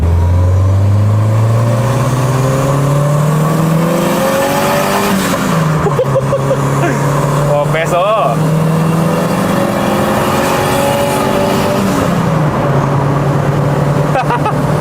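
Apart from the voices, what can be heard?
turbocharged Honda D16 engine revving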